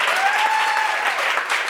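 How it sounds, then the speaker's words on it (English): Applause at a women's celebration event honoring a foster parent, loud steady clapping from a crowd with a faint whistle-like tone running through it. "So just clap it up for that."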